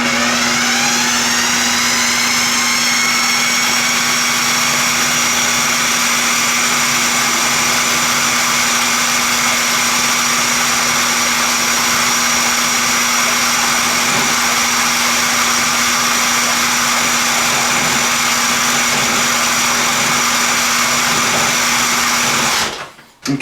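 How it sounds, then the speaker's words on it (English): Blender whirling an herb and citrus sauce for cod, a steady loud motor drone with a constant high whine running the full length before cutting off abruptly at the end, no talking. "you could also just make this in a blender if you want"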